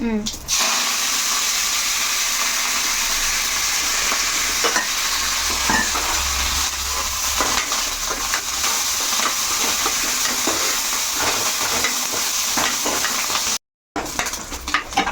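Cumin, asafoetida, garlic, dried red chillies and curry leaves sizzle in hot oil as a tempering for tomato dal, a steady close crackle with occasional stirring and no clear speech.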